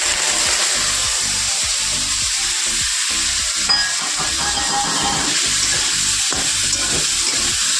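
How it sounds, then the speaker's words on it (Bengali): Pumpkin and bitter gourd fry in oil with nigella seeds in a kadai, making a loud, dense, continuous sizzle and hiss with occasional stirring clatter, and no voices. "কালো জিরে ফোড়ন দিয়ে কড়াইতে তেল দেওয়াও হয়ে গেছে আমার। কুমড়ো উচ্ছেটা একটু করবো।"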